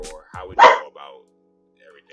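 A pet dog barks once, loud and close, in the middle of a conversation, with a person talking just before and a short softer vocal sound after.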